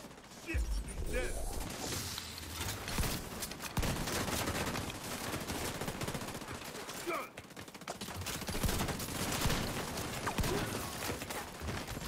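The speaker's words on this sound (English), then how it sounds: "Stop fucking shooting me." Dense rapid gunfire from a shooter video game, with bursts and single shots over about twelve seconds and a voice talking over parts of it.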